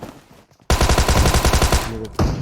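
An M4 rifle in PUBG Mobile fires one loud, close burst of rapid automatic shots lasting about a second and a half, then cuts off abruptly.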